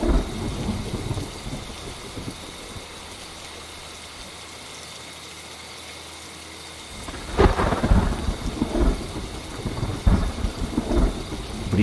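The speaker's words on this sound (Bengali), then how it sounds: "হাওয়ার বেগ কিছুটা কমে এলেও বৃষ্টি সেই সমানতালেই পড়ে চলেছে।" Steady rain falls at night in a constant hiss. After a quieter stretch, heavier gusty bursts of rain and rumbling storm noise build up and repeat through the second half.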